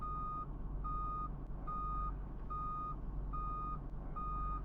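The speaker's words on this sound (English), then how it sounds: "the invisible tow truck pulls us out of the sand, pulls us all the way back to the start" Reversing beeps from a tow truck in a video game repeat at an even, evenly spaced pulse over a low steady rumble, faint and with no talk.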